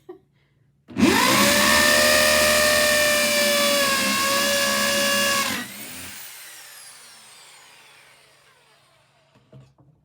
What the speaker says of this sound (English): the drilling through particle board was going to be a little more of a challenge and a mess